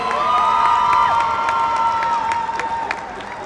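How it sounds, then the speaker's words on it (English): Audience at Crufts 2017 dog show obedience ring applauding and cheering, a lively crowd with whoops and whistles over steady clapping, fading slightly toward the end. "Nice round of applause."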